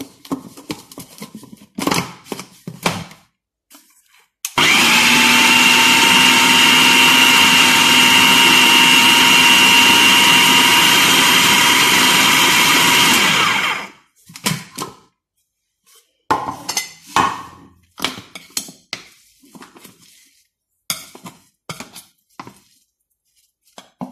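A food processor grinds a corn mixture for corn kofta, a loud, steady whirring roar that runs unbroken for about nine seconds before cutting off, with quieter kitchen clatter before and after.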